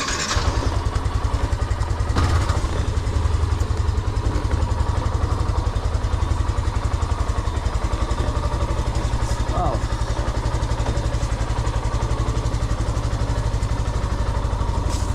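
A motorcycle engine idling with a steady, loud throbbing putter throughout while the bike is eased along, with a couple of clunks along the way.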